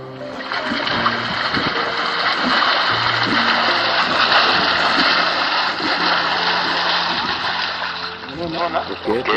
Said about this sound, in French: De l'eau que nous agitons, nous les mettons dans le canal.